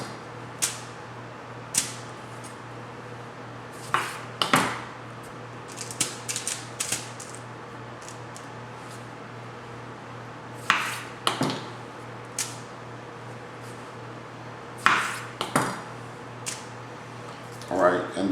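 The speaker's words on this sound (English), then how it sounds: "we're going to take our tomatoes and we're going to just cut those in half and put them down on a foil lined baking dish" A knife cuts fresh tomatoes in half on a foil-lined baking dish, giving sharp, scattered taps and clicks at irregular intervals, fairly close, under steady background hum with talking throughout.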